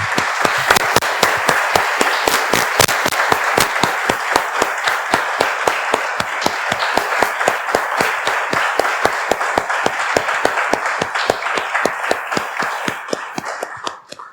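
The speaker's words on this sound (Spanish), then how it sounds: "Le damos un aplauso" A church congregation applauds at a service: dense, steady rhythmic clapping sustained at an even level for about fourteen seconds, close and loud, with no talk over it, tapering at the very end.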